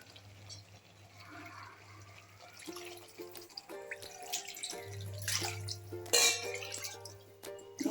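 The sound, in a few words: water poured into cooking pot with a cup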